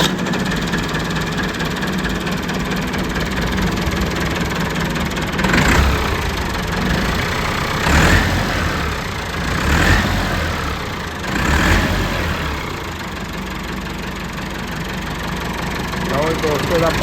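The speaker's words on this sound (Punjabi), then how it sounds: "ਬਾਕੀ ਇਸ ਦਾ ਹੁਣ ਤੁਹਾਨੂੰ ਸਾਊਂਡ ਚੈੱਕ ਕਰਵਾਉਂਦੇ ਸਲਫ ਮਾਰ ਕੇ।" A 2002 Massey Ferguson 385 tractor with a Perkins diesel engine idles steadily and loudly up close. The engine swells briefly a few times, and voices talk over it.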